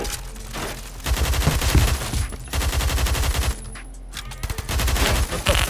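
Rapid bursts of AUG rifle fire in a Roblox Phantom Forces match, loud close volleys broken by short pauses, with more shots rattling in the background.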